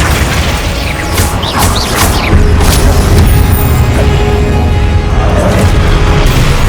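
Spell combat in Hogwarts Legacy, with Confringo fire blasts and other casting: a loud, dense run of booming bursts and crashes over a steady low rumble, with no talk.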